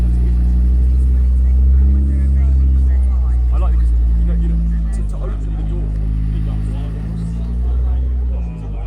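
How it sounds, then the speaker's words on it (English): An original Audi Quattro with a turbocharged five-cylinder engine rumbles low and steady as it pulls away at a classic car meet, with people talking nearby over the engine. "we got the Quattro leaving. The original Audi Turbo 5-cylinder."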